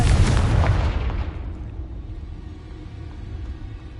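Confringo fire spell in the video game Hogwarts Legacy explodes with a loud, close, booming blast that rumbles and decays over a few seconds into a low fading roar.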